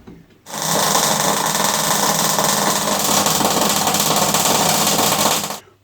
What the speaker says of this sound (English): that's all the welding done on the main frame now